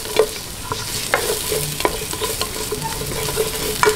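Ginger and garlic sautéing in a pan, a close crackling sizzle with frequent sharp spatula taps and scrapes at irregular intervals, no speech.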